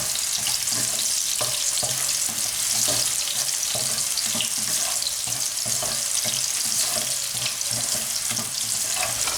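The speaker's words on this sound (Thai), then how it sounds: "ก็เอาเข้าไปผัดนะคะ เห็ดฟาง สดๆนะคะ" Steady sizzling and crackling of fresh straw mushrooms stir-frying in a hot pan, with occasional scrapes of stirring, continuous and fairly loud with no talking.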